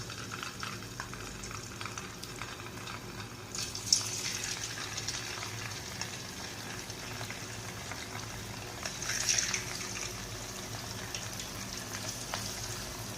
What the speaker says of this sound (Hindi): मीडियम फ्लेम के ऊपर 10 मिनट के लिए आपने चिकन को अच्छी तरह फ्राई होने देना है